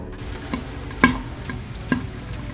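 Meat fries in its own rendered fat in a pan, a low steady sizzle broken by a few sharp utensil clinks against the pan, with no talking.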